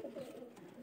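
A Murshidabad Giribaz pigeon gives a soft, low coo, brief and faint, close by with little else around it.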